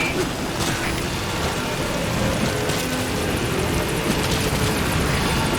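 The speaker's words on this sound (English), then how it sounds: "Support helicopter requested." A support helicopter arrives in the video game Metal Gear Solid V: The Phantom Pain, making a loud, continuous rotor and engine drone that holds steady throughout and fills the whole scene.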